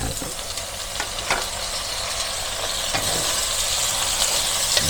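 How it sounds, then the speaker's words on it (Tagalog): Pork, onion and garlic sizzle steadily in a hot pan as tomato goes in, with a continuous frying hiss and occasional stirring scrapes, close and fairly loud with no talking. "habang pinalalambot natin yung ating pork, na luluto na rin, nagbabrown na rin ang ating sibuyas at bawang"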